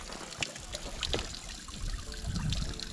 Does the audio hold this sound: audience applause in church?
no